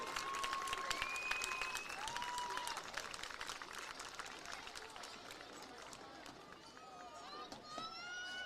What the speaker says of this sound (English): Would everyone please join me in a round of applause for our 2023 Homecoming Queen